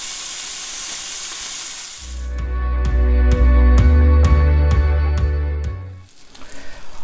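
A prosciutto-crusted stuffed pork tenderloin browns in a hot pan, first with a bright sizzling hiss, which then gives way to a loud steady hum marked by regular ticking clicks before the sizzle briefly returns.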